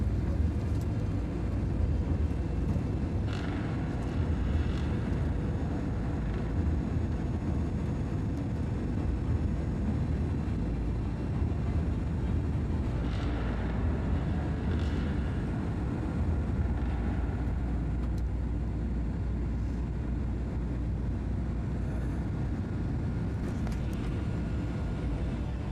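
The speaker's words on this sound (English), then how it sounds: "We fly out over the Salt Lake marshes to the north of the lake and make our turn to go to the runway." Airliner cabin noise as a plane turns toward the runway over the Salt Lake marshes near Salt Lake City, a steady low roar of engines and airflow that continues throughout with faint scattered clicks.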